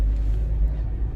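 An Audi/Volkswagen engine with an EPC light fault idles roughly around 1500 rpm, giving a low, uneven rumble and slight rattle, heard up close without talk.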